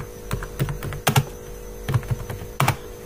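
Code typed on a computer keyboard: a few scattered, close key clicks in small bursts, with a steady mains hum beneath.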